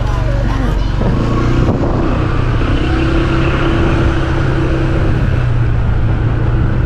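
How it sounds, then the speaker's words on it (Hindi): A motorcycle rides through a village in Indonesia, its engine a loud steady drone up close with wind noise and voices faintly underneath. "बाइक जो है ना भाई चला रहे हैं"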